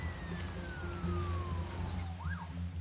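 An ambulance siren in the video game SimCity wails through a city street, a wavering tone that sweeps down and then rises again, heard over low game ambience and engine hum.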